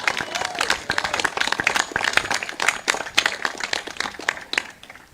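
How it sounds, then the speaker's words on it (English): An audience at a Belizean award ceremony gives warm, steady applause for honoree Francis Renaud, many hands clapping fairly close, with a murmur of voices underneath. "A round of applause for Francis Renaud."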